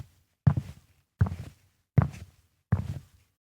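Four evenly spaced footsteps, each a soft low thud, walking at a steady unhurried pace close by in a quiet room.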